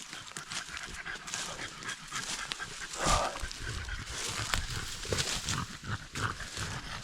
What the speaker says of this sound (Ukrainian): Собаки вже власне запихались.